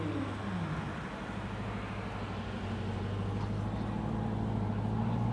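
A Corvette pulls away from a cars and coffee meet with a steady low engine rumble and a falling tone at the start, under constant outdoor background noise.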